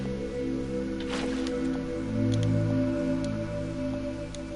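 Flowing water from buckets placed in the corners of a Minecraft build: a soft, steady wash and trickle with occasional squishy drips, under sustained tonal background music.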